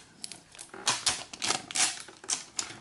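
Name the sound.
protective plastic film peeled off a docking station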